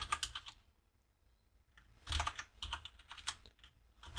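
Computer keyboard typing PHP code, in two bursts of quick, close key clicks separated by a short silent pause.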